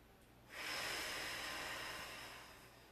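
A deep, steady inhaling breath drawn during an abdominal exercise for back pain, close and hissing, swelling quickly and then slowly tapering off with no talking over it.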